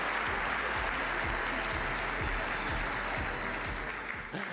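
Audience at the 2018 Oregon Sports Awards ceremony applauding a football athlete of the year, a dense sustained clapping that holds steady before tapering at the end.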